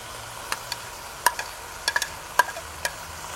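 Onions and fresh tomato frying in a pan, a low sizzle under a handful of distinct utensil clicks and scrapes as the mixture is stirred, close and moderately quiet, with no voices.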